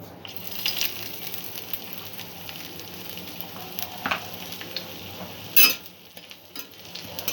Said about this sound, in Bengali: অল্প একটু ভেজে নেব আদাগুলো।